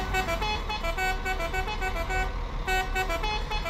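A musical bus horn plays a rapid repeating melody of toots, loud and continuous over a rumbling engine.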